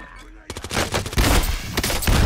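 Rapid bursts of gunfire from a video game shooter, loud and close, rattling in quick automatic volleys that build and continue to the end, with a player's voice in the background.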